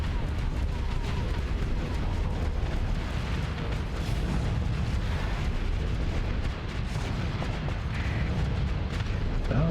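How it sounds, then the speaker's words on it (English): Spaceship nose cannon fire and explosions in the Starsector video game with Star Wars mods, a dense, continuous barrage of booming blasts and crackling bursts rumbling loudly throughout. "lining up the shots with his nose cannon there"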